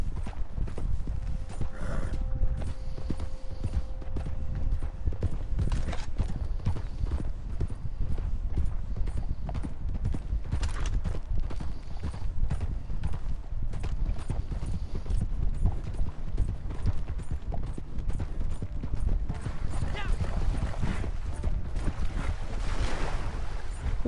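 Horse hooves clip-clop steadily in Red Dead Redemption 2 Online as a mount travels overland, a continuous rhythmic drumming of hoofbeats over a rumbling wind-like background, with a brief whinny early on.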